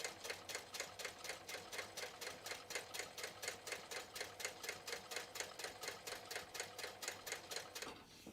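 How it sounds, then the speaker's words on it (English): A sewing machine running a long top stitch across fabric, a fast, even, mechanical rattle of needle strokes for about eight seconds, close and steady, then stopping abruptly. "I'm going to sew all the way across."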